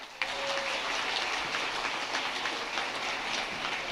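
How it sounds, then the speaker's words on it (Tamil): Sustained applause from a large audience at a Tamil motivational speech, a dense broadband patter of clapping that runs loud and steady for the whole stretch with no voices over it. "ஒரு பெரிய கைத்தட்டல் கொடுங்க"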